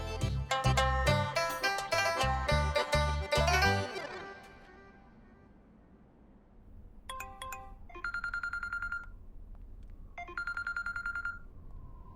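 A telephone is dialed to place a call in a Hindi TV drama. A melodic ringtone-like phrase leads into a short burst of dialing tones, then two long, steady ringing tones with silence between them.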